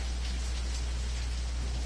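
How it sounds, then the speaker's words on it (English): Heavy rain pours in a video game, a dense steady hiss with no gaps and a low constant rumble beneath, with no voices. "It's raining pretty hard outside, that's all."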